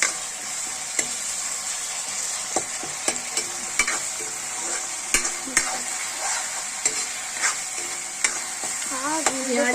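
Onion paste fries for chicken rezala with a steady, close sizzle, marked by regular sharp clicks and scrapes of a spoon stirring in the pan and a faint voice near the end.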